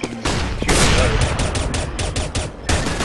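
Video game gunfire crackles in rapid bursts, dense overlapping shots with a steady rhythmic stutter of individual reports, loud and close with little letup across the few seconds.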